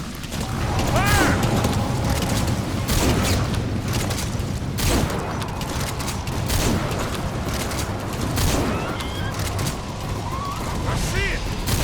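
Gunfire in the video game Metal Gear Solid V, a steady clatter of shots and mechanical impacts filling the scene at close, loud level, with a voice speaking briefly over it.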